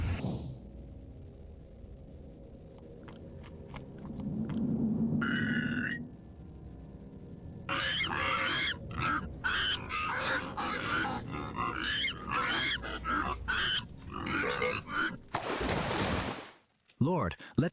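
Pigs grunting and squealing in a dramatic biblical scene, low snorts building into a close, agitated burst of grunts, followed by whooshing surges and intermittent speech.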